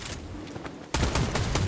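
Gunfire from a Fortnite trios match, a dense fusillade of rapid shots that turns sharply louder about halfway through and stays loud and continuous to the end, with no talking.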